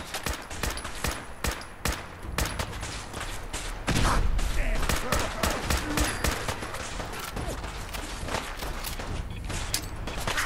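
Rapid automatic gunfire from a firefight in Fallout 4 rattles on continuously with dense, loud bursts, and footsteps and a voice occasionally come through underneath.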